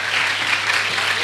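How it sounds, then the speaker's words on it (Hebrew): Steady applause from a gathered audience honouring the girls at a religious talk, a dense, continuous clatter of many hands held at an even level throughout. "מחיאות כפיים לבנות"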